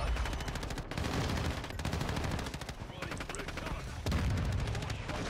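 Dense, loud gunfire and explosions from a Call of Duty: Modern Warfare II match, with rapid machine-gun bursts, sharp shots and booming blasts from a mortar strike running continuously throughout.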